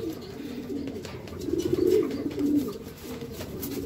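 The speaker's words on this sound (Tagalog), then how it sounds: "Pang-anim pa mga kalapatids, oh." Racing pigeons coo on arrival at a loft during a summer training race, soft throaty coos repeating close by, swelling a little in the middle, with no voices.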